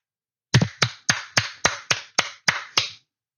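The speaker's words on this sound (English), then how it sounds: "Keep applauding." Sharp slaps repeat at a steady, deliberate pace, about nine in all, sounding more like one person clapping near the mic than a full audience. They stand alone with no talk.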